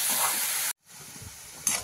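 Bottle gourd pieces sautéing in a hot pan give a steady, close sizzling hiss that breaks off briefly and then resumes quietly before flaring again.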